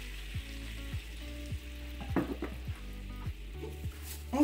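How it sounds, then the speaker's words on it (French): Vinegar sizzles as it hits a hot frying pan to deglaze it while a red cabbage and walnut salad dressing is made, with a steady frying hiss and periodic scraping and stirring strokes in the pan, close and alone. "c'est de venir déglacer directement au vinaigre dans votre poêle"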